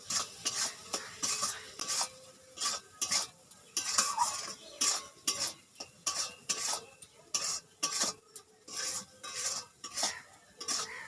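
Spice paste with turmeric and salt is stirred and fried in a pan for a chicken and potato curry, a rhythmic scrape of the spoon against the pan repeating steadily over a faint sizzle.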